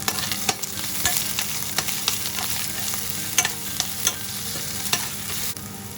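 Onion frying in about a tablespoon of olive oil in a preheated pan, a continuous close sizzle broken by regular scraping clicks of a utensil stirring, with no talking.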